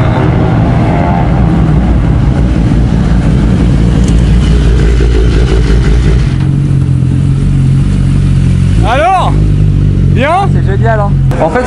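A BMW HP4 Race 215 hp racing motorcycle engine roars loudly and continuously close by, with a couple of sharp rising revs toward the end.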